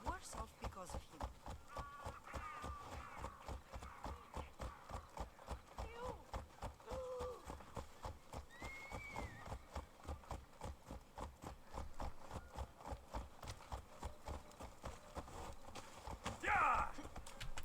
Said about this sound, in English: get off the horse